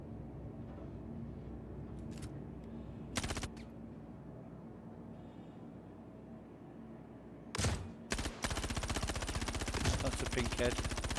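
Gunfire crackles in the Star Citizen video game as guards shoot one another, with sharp isolated shots early on and then a dense burst of rapid automatic fire near the end over a constant game hum.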